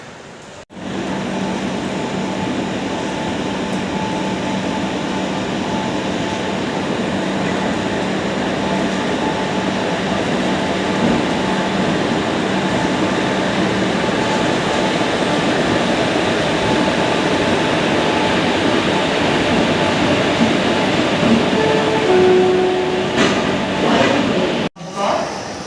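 An 8-car MEMU fast train from Chennai Central to Arakkonam rumbles along steadily from inside the coach, a constant loud roar with a faint tonal whine, while someone talks over it.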